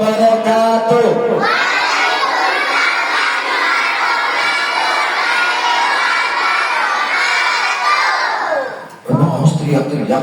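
Children at a school Isra Miraj event shout a long greeting together in loud unison, a sustained crowd of young voices lasting several seconds before ending and giving way to brief speech.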